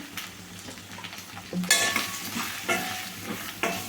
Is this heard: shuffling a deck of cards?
no